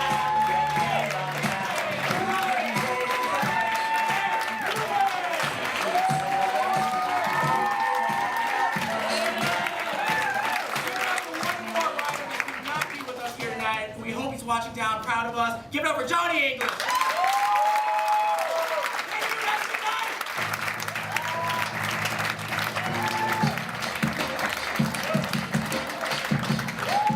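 Sustained audience applause and cheering for the pianist at a live show, thick clapping with scattered whoops over an underlying musical drone, briefly thinning midway before swelling again and continuing to the end.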